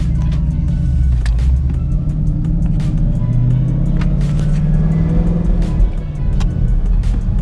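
Steady car engine drone from inside a moving vehicle, with a faint high whistle riding above the low rumble.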